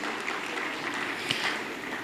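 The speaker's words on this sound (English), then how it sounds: "I think that deserves a round of applause." Audience at a Jobberman career fair in Ibadan breaking into applause, a dense burst of many hands clapping at moderate loudness, steady across the short stretch.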